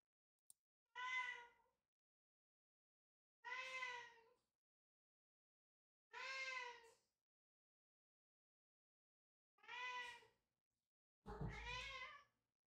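A cat meows five times in an indoor room, each call drawn out and evenly spaced a couple of seconds apart, fairly faint, with the last one a little rougher and louder.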